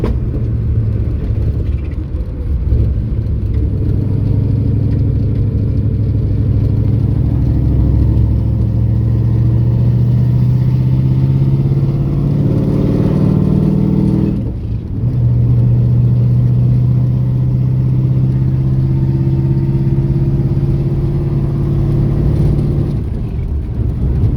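A performance-built LT1 383 Camaro engine runs loud and close, a steady deep rumble with revs that climb and hold, one brief dip midway, then rising again.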